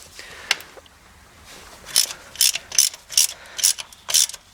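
A 13 mm ratchet loosens the shifter bolts on a 1986 Mustang GT, with a couple of soft clicks and then six loud, evenly spaced bursts of fast ratcheting close to the microphone.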